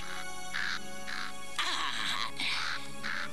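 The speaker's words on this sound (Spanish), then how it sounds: "si este cuervo continúa siguiéndonos, terminará en la sartén" A crow caws in repeated short, harsh calls in a regular rhythm, loud and near, over a constant background hiss.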